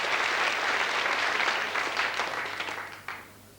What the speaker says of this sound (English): Round of applause for Karl Marx.